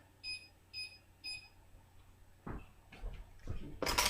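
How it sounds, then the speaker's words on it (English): Kitchen timer being set while baking blueberry spelt muffins: three short, evenly spaced beeps, followed by a few soft clicks and handling knocks nearby, ending in a brief burst of rustle. "I'm setting the timer."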